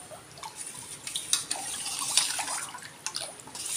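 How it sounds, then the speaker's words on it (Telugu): Oil is poured onto a hot griddle for hotel-style rava dosa, giving soft intermittent sizzling and dripping crackles close by, with no talk. "చూడండి ఇలా మళ్ళీ నూనె పోసుకొని"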